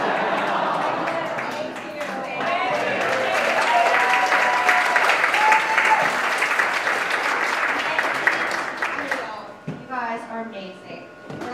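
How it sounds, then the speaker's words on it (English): Standing ovation at a live awards night: dense, sustained applause with crowd cheering fills the room for about nine seconds, then fades as a voice begins talking over the last scattered claps. "everybody do a standing ovation"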